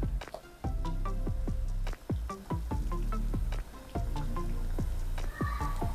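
Pempek fish cakes dropped one by one into boiling water, making a series of wet plops and splashy squelches at an irregular rhythm over a bubbling background, close and fairly loud.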